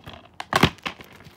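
Tape tearing and plastic crinkling as a DVD package is unwrapped, with a burst of ripping in the middle between softer rustles. The sounds are close and there is no talking.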